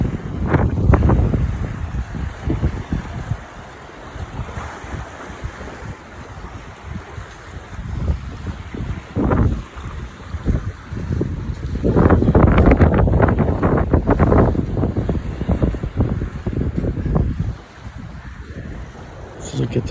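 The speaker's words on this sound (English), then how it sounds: "Listen to the sound of the waves." Waves breaking on a black sand beach, repeated loud surges and crashes rising and falling over about twenty seconds, mixed with wind rumble against the microphone.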